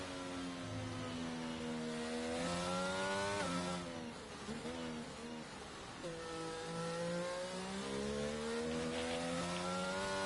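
A Williams Formula 1 car in a racing game drives the Australian Grand Prix circuit, its high-pitched engine whining loud and close as it winds up through the gears, drops off sharply around mid-clip, then climbs again.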